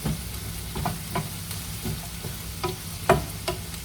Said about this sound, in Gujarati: તો મસ્ત ગાજર પણ એડ થઈ ગયું. થોડું એને સોટે કરી દઉં હું.